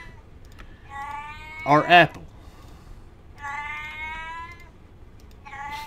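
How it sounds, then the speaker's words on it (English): A house cat meows loudly twice in quick succession, close by. Softer sounds and a voice saying a few words surround the meows. "My cat's going crazy."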